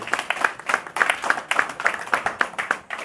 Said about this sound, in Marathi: त्या नितीन मादियेसाठी जोरदार टाळ्या होते